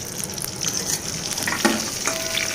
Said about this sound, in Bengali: এবার আমার পটল ভাজাও এখানে হয়ে গেছে,